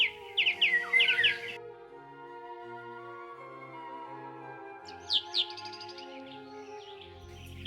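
Bird singing a melodious song by a wild Alpine river, two bright bursts of chirping, warbling phrases near the start and again later, set over soft sustained background music.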